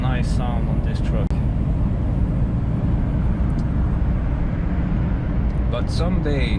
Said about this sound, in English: It's a nice sound on this truck.